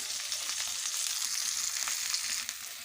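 Spice masala with turmeric and raisins for katla fish kalia fries in a pan with a dense, even sizzle that holds steady throughout at close range.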